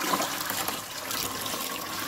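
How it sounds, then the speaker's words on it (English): Water is dumped into an acid bath used for stripping rust from an exhaust manifold, giving a steady rushing, splashing pour that continues for about two seconds with no talk. "let's just go ahead and dump this water into this acid and see what happens"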